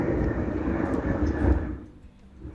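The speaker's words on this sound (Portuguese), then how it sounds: "Avião." An airplane passes overhead as a broad, low roar that holds steady, then fades away near the end.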